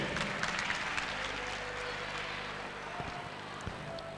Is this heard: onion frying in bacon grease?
no